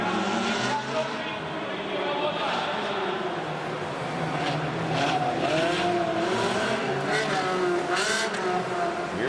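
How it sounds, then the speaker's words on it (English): Ferrari race car sliding on Pirelli tires across fresh asphalt at the Race of Champions, a steady loud engine roar with tire scrub, commentary voices running over it throughout. "Mears sliding that Ferrari on Pirelli tires all over this fresh asphalt surface"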